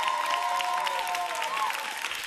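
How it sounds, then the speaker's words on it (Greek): A studio audience on a Greek entertainment talk show applauds steadily, dense clapping throughout with a voice briefly audible over it. "Ένα χειροκρότημα στον Αντρέα μας, ρε παιδιά."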